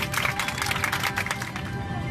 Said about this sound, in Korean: 새 생명이 탄생한 순간 승객들의 박수가 터져 나옵니다